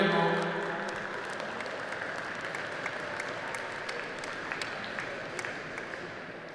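A hall audience applauds steadily at a Vovinam Viet Vo Dao World Cup medal ceremony. The dense clapping starts strongest and then holds at an even level throughout.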